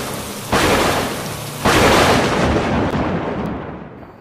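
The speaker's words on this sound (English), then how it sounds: "Then came the rain." Heavy rain falls in a dense, loud, hissing wash that surges twice and then holds steady, with no voices.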